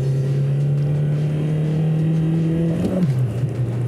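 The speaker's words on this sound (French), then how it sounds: "Et le moteur gasoil, là, faut le monter dans les tours pour qu'il marche." A Citroën BX diesel engine drones at steady high revs, then the pitch dips and settles lower near the end, loud and close.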